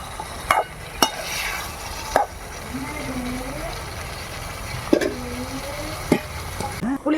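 Brinjal sizzles steadily in oil for a Dindigul-style kuzhambu, with a spoon or ladle knocking the pan in sharp intermittent scrapes and taps, and a voice speaking over the frying.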